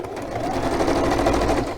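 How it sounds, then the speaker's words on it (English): A sewing machine stitches steadily around a perimeter, a close, continuous rapid mechanical chatter with an even rhythm and no pauses over the short stretch. "Then here I need to stitch around the whole perimeter."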